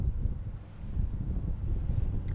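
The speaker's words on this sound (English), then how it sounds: "Ah, and it's windy." Wind blows outdoors in steady, loud rumbling gusts buffeting the microphone, continuous throughout with no voices.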